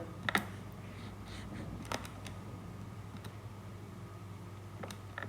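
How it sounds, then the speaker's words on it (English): Numbers being typed into a calculator during a math lesson: a few scattered, light button clicks and taps over a steady low hum, close but faint, with no talk. "I'm going to type that into the calculator."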